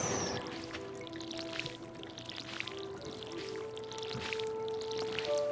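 A watering can watering crops in Stardew Valley, giving a soft, steady pouring and trickling sound over a few seconds, fairly quiet with faint game music tones underneath.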